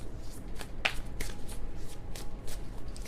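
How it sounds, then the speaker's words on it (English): Tarot cards are shuffled by hand in a rapid series of crisp, riffling bursts and soft slaps, close and clear in a quiet room. "That was kind of a sloppy shuffle"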